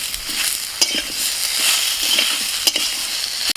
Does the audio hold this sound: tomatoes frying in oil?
yes